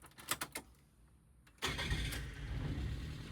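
A Nissan Pao with a rebuilt carburetor cranks with a few quick starter clicks and whirs, then catches and fires into a steady, close idle.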